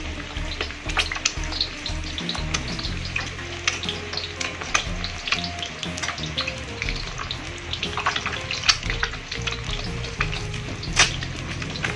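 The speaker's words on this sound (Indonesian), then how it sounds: "Seperti inilah cara kerjanya sampai dengan ke-6 telur itu diceplok." Six eggs frying in a pan for sunny-side-up fried eggs, crackling and spitting with a steady close sizzle, frequent sharp pops, and occasional scraping or stirring clinks.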